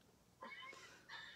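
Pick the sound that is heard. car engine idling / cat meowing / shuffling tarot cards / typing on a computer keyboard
cat meowing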